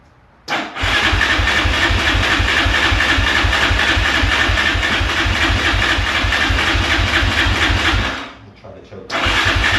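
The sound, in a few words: Yamaha Raptor 660R ATV engine running and revving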